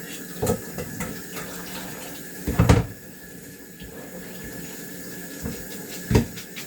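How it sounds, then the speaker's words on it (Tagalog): Cold tap water runs over cooked spaghetti in a kitchen sink, a steady close splashing with a few louder gushes and clunks as the pasta is rinsed. "I-rinse natin yung malamig na tubig para hindi siya lumambot."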